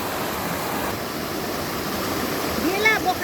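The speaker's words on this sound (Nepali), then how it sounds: "खोलाको स्वर सुन्न है साथीहरू। यो खोलाको स्वर यसरी सुन्न पाउनु पनि भाग्यकै कुरा हो।" A mountain stream flowing near Kakopetria beside a picnic spot, a steady, close, broadband rush of water with a short bird-like chirp near the end.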